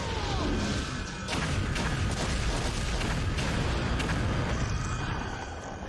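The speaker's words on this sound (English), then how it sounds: "Look at this explosion." A loud, sustained explosion from the Power Rangers Lightspeed Rescue TV show, a dense roaring blast with crackling debris that fills several seconds without pause.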